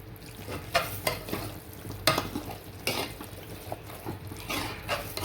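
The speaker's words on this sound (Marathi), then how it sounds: "त्याच्यामुळे चांगलं परतून घ्यायचं याला मसाल्यातच." Goat offal is sautéed in masala in a pan, sizzling steadily while a spoon scrapes and stirs in repeated clattering strokes close by.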